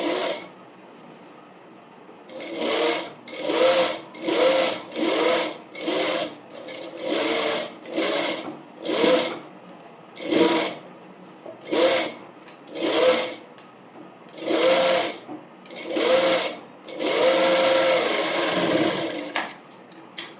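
Domestic sewing machine stitching a cotton umbrella frock, its needle run in about a dozen short bursts of rapid whirring chatter separated by brief quiet pauses, close up and with no one speaking.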